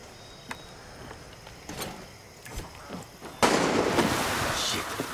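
Gunfire in the Far Cry 6 video game: a few sharp, distant cracks ring out sparsely, then a much louder burst of shooting erupts and continues to the end.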